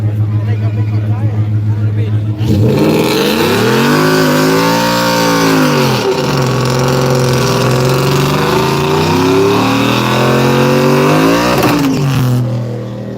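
A drag racing car launches and accelerates down a dragstrip under the lights, its loud engine rising through several revving pitch sweeps before cutting off, with crowd babble underneath throughout.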